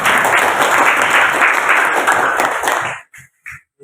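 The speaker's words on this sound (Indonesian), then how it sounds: "Aplaus untuk temannya." Group applause for a fellow participant at an Indonesian teacher training session, a loud, dense burst of many hands clapping close by that holds for about three seconds, then tails off into a few scattered claps.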